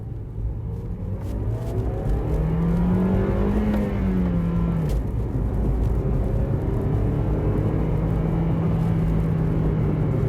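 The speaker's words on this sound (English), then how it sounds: "we're gonna test out the acceleration from first to second gear" A 2014 Toyota Vios engine roars up in pitch, dips at the shift from first to second gear, then pulls again, loud and steady from inside the car with no talk.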